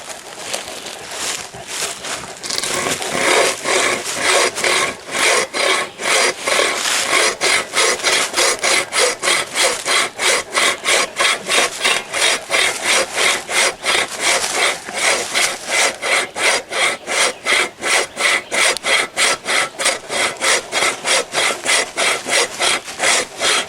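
A hand saw rasps through very seasoned, hard oak in steady, rhythmic back-and-forth strokes, close and loud, dozens of even cuts in a row.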